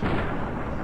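Varmint rifle fired in Fallout New Vegas, a single loud, close blast with a dense booming body that fills the whole short moment without decay to silence.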